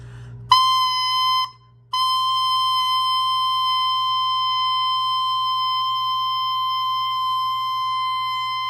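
A steady, piercing high tone played on a clarinet mouthpiece alone is held, briefly breaks off, then resumes and sustains evenly to the end, loud and close, with no talking.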